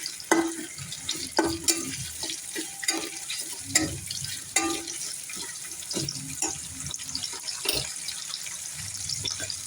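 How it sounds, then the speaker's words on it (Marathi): Chopped onion sautéing in a pan for a vegetable biryani, a soft sizzle under repeated stirring and scraping clicks, with some watery kitchen noise and no talk. "छान असं थोडासा कांदा परतून घेऊयात."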